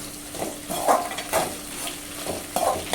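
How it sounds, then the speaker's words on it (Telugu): Onions and curry leaves frying in a pan, a close, moderate sizzle with repeated scraping stirs at an uneven rhythm, no voices. "ఆనియన్స్ని వేయించుకునేటప్పుడే కరివేపాకు కూడా వేసుకొని వేయించుకోవాలి."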